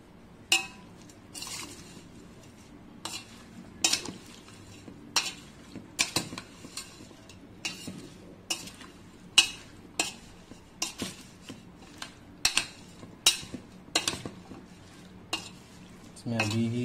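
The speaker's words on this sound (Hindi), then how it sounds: "अब मैं क्या करूँगा, इसको एक सूखे चम्मच से अच्छे से मिक्स करूँगा।" A dry spoon stirs a non-oil pickle of lemon, ginger and garlic in a bowl, giving repeated sharp scraping clinks at an uneven pace, close and fairly loud over quiet background.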